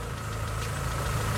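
A car engine idles after a restart, a steady close rumble with a regular low pulse and slight knocking texture, running evenly with no talk.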